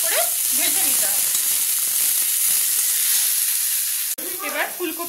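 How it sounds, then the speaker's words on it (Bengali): Cauliflower florets crackle and hiss as they fry in oil, with a steady close sizzle and stirring clinks, and a person briefly talks over the frying near the end. "আমাদের ভালো করে ভেজে নিতে হবে।"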